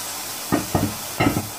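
Coriander leaves and soft onions are sautéed in a pan: three short bursts of stirring and sizzling over a soft hiss, close and fairly loud, with no talk.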